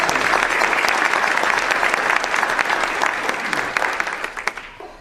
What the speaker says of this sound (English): How about another round of applause to those three essays?